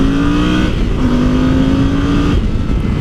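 A Yamaha Super Ténéré motorcycle accelerates hard in second gear at full throttle on a test track, its engine note loud, close and steadily rising without a break, with no talking.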